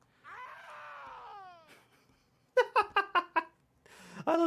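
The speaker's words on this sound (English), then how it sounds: "I love the screams." Screams in a video game: a drawn-out wavering scream that slides downward, then a quick series of five sharp cries and a final shout, loud and close with no other talk.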